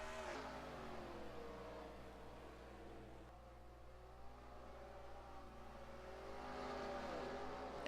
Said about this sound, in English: John Andrews, A Stoudimere Jr. put us under the green flag here at South Boston.